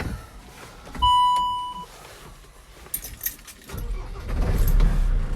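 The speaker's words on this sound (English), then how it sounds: "I'll start it up and you can hear it running" A 2009 Land Rover Defender 110 with 120,000 miles: keys jangle and a dashboard warning tone beeps for under a second, then the diesel engine cranks briefly and fires, settling into a loud, steady idle heard up close from inside the cab.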